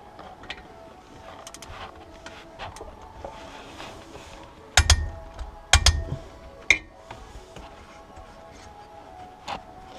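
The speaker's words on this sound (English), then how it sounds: "I'm going to tighten this bolt back to 44 foot-pounds with my torque wrench" A torque wrench tightens a differential bolt on a BMW E90 335i: faint light ticking gives way to a short cluster of sharp metallic clicks and clunks midway, in a quiet garage.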